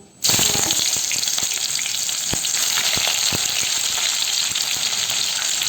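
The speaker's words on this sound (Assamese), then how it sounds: "তেলটো পূৰা গৰম তেজপাত দিছোঁ।" Bay leaf dropped into very hot oil in a pan for an Assamese eel (kuchia) dish, a loud steady sizzle beginning abruptly and crackling on without pause, with a few sharp pops.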